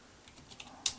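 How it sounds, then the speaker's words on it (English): Commands typed on a computer keyboard, a short run of soft clicks ending in one sharper keystroke, close and quiet with no voices. "So I'm just typing a few commands"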